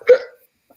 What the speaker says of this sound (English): It was a hiccup